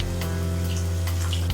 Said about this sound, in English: Add 4 glasses of water.